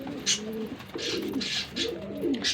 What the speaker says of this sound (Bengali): ডিমের উপরে আছে কবুতরটা